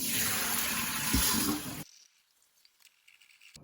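Soaked rice being drained and rinsed for makgeolli brewing, a loud steady rush of running water for nearly two seconds that stops abruptly, followed by faint drips and small rustles.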